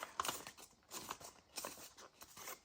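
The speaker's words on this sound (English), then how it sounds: "Let's even crumple up the edges a little bit." Paper edges are crumpled by hand for a junk journal, a few soft close crinkles and crackles in short bursts with quiet gaps between, no talk over them.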